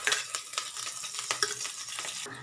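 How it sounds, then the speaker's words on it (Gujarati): Green chillies and curry leaves sizzle in hot oil for a brinjal curry, a steady crackling hiss broken by several sharp spoon strokes against the pan, close and moderately loud with no voices. "આપણે એમાં લીલા મરચાં 2 લીધા હતા એ લીલા મરચાં નાખીશું."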